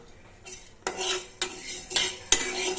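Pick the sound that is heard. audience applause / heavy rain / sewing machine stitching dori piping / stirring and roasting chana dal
stirring and roasting chana dal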